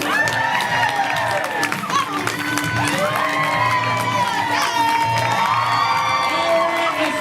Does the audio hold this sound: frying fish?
no